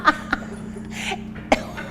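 A few short coughs punctuate an indoor fitness class: one sharp cough at the start, a smaller one shortly after, and another near the end over a steady low hum.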